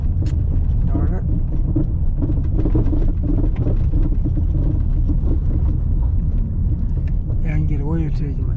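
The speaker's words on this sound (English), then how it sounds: "I can get away with taking my car up here." A car creeps up a bumpy dirt road, its interior filled with a loud, steady low rumble and jostling mechanical knocks throughout, while a voice speaks briefly near the start and again near the end.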